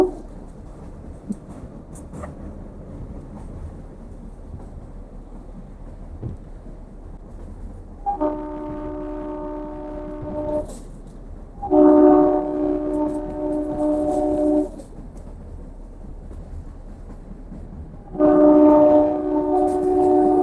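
Passenger train running toward Sasan Gir in Gujarat, with a steady low rumble of carriages broken by three loud, sustained horn blasts at intervals, heard from on board, no talk.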